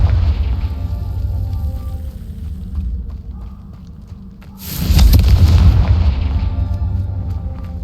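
A Confringo spell in Hogwarts Legacy goes off as a sudden loud, fiery blast over a low rumbling background, then fades into a sustained roar.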